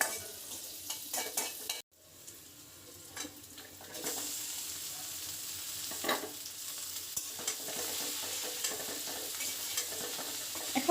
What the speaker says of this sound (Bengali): এখন এই গরম তেলে আমি কাঁচামরিচ আর পেঁয়াজটা এটা হালকা ভেজে পরে আমি ঢেঁড়সগুলো দিয়ে দেবো।